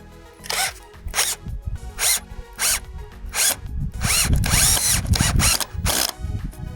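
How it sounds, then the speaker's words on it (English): A power drill drives screws into wooden garden branches for a no-budget art piece, giving several loud, close whirring bursts that rise and fall and then one longer sustained run, with no voices. "to secure the pieces of wood, we're using some screws"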